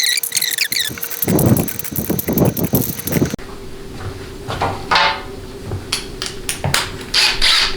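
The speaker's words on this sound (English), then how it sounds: "Get everything lined up and then run down all your bolts" Bolts being run down with a ratchet during final assembly of a Ford 6R140 transmission, close metallic ratcheting clicks in several short bursts separated by pauses and tool handling, no talk.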